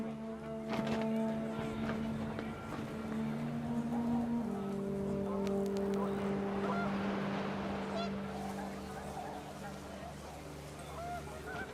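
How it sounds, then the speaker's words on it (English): Panicked geese honk in a video game, a cluster of nasal honks over a steady droning background with a low sustained tone, fairly loud and continuous for about twelve seconds. "The wind picked up, and panicked geese appeared and quickly went."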